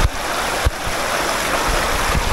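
Steady rushing water flows continuously, a broad wash of sound with a few low thumps, from a river current running nearby at a nature camp in Laguna.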